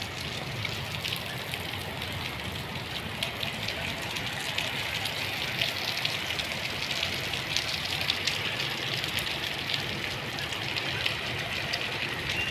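Heavy typhoon rain pours down steadily, a dense hiss with scattered drops pattering on nearby surfaces, continuous and unbroken.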